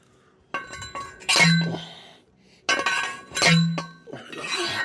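A tomato trellis pole is struck outdoors in a garden with big hits, giving two loud metallic clanks with ringing tails about two seconds apart.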